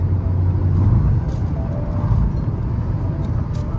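A car cruises on a long highway road trip at about 102 km/h in fifth gear. The engine drones at high revs inside the cabin as a steady, loud, low rumble mixed with road noise.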